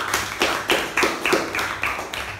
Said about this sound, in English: A huge round of applause to Toastmaster Joe